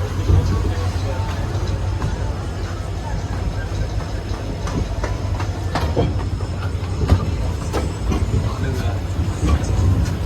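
Train at Kamakhya station starting and running, a continuous loud rumble of wheels and carriages with rhythmic clicks, close by, with voices faintly underneath.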